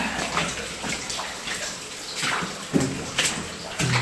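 Water flowing and dripping from the ceiling in a mine tunnel with timbers on the floor, a continuous wet wash with scattered splashy drips, some louder close drops standing out near the end.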